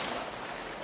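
A boat moves across open water on a siig-fishing trip, heard as a steady broadband wash of hull and water noise with no clear engine tone, continuous and fairly close through the whole short moment.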